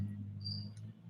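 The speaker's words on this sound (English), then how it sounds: "those are really loud crickets" Crickets chirp loudly on a night with a harvest full moon, a dense steady insect drone close by with a few higher trills on top and no talking.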